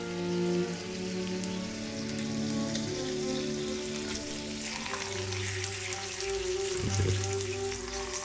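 Bacon for breakfast sandwiches fries in a pan, crackling softly and steadily like light rain under piano music, with a brief spoken word.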